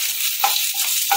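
Curry leaves dropped into hot oil for tempering crackle and sizzle in a close, bright hiss, with a few sharper spits and pops rising through the short burst.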